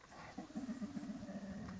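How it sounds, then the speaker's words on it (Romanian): A low, rumbling animal growl rises and holds steady at close range, continuous and throaty for most of the clip. "Auzi cum mârâie"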